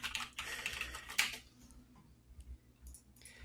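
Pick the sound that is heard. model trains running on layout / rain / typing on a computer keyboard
typing on a computer keyboard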